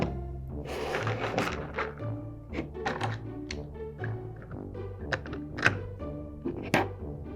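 Plastic toy train pieces being handled and snapped together, a close series of irregular knocks, clicks and thunks with brief rattles, moderately loud and free of talk.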